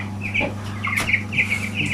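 A young broiler cockerel clucks in short repeated bursts, close by, over a steady low hum; no one speaks.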